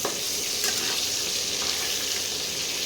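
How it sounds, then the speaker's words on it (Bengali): Potato pieces frying in moderately hot oil in a pot before mutton curry is cooked in it, a loud, dense, steady sizzle close by, unbroken and without speech. "সেই জন্যে তেলটা অল্প গরম অবস্থায় আলুগুলো ছেড়ে দিয়েছি"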